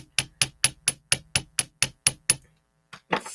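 A large chasing hammer strikes a metal earring ten times in an even, rapid rhythm, each blow a sharp, ringing metallic tap, close and loud, followed by a brief pause and a couple of softer knocks and a clatter.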